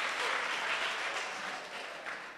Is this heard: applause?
yes